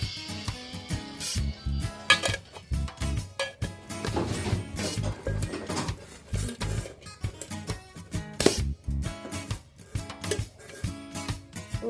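Metal lid and spoon clatter and clink in a home kitchen while tea is being made, a busy run of sharp knocks and rattles close by.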